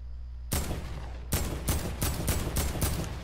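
Video game gunfire: after a brief pause, a sharp shot rings out, then a rapid string of about six close, loud bursts in quick succession, with no voice.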